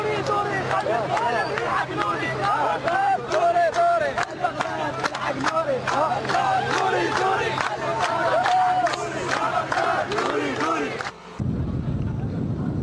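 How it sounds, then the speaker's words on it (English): Crowds in the streets of Baghdad shout and cheer with many overlapping voices in a loud, surging roar. It breaks off abruptly near the end before resuming. "Crowds surged into the streets to applaud them and their work."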